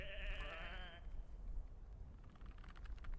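A single sheep in the video game Whateverland gives one wavering bleat lasting about a second, followed by quiet ambient game noise and faint clicking.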